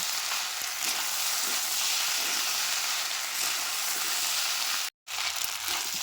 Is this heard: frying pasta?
yes